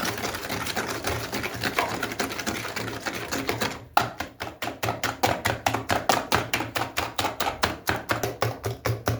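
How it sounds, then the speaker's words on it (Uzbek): Sugar being mixed into an egg mixture until it dissolves, a steady whisking or beating that turns after a few seconds into a fast, regular rhythmic tapping against the bowl, close and fairly loud with no talking. "Mana endi shakarni ham oz miqdorda eriguncha tuxumli massamiz bilan yaxshilab aralashtirib olamiz."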